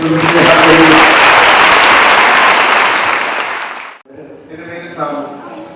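A church congregation bursts into loud, sustained clapping that fills the room for about four seconds, then stops, and a voice begins speaking.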